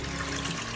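Toilet flushing with a steady rush of running water, a brief continuous wash of sound at close range with no voices.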